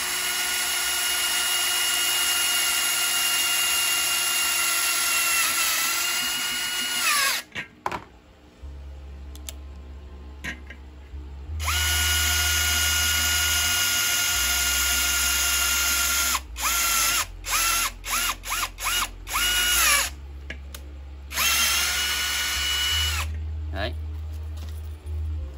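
A Hitachi 48V brushless cordless drill runs in long, steady whirring bursts, stopping and restarting several times with short clicky gaps between runs.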